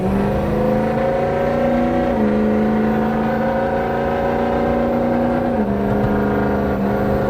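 A 2006 Ford F250 lifted pickup engine drones steadily at about 60 mph, loud and close, with its pitch dropping slightly a couple of times as it shifts.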